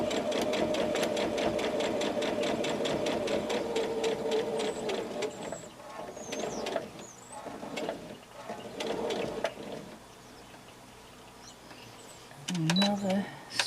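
A sewing machine stitches single fold binding onto a pot holder, its rapid rhythmic needle clatter steady at first, then breaking into short bursts and stops, with a person talking over it throughout.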